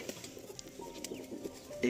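Kaldam pigeons coo softly in a brief, low, murmuring burble at close range, with a person talking over the birds.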